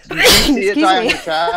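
A single sharp sneeze bursts out close to the microphone, immediately followed by a person speaking.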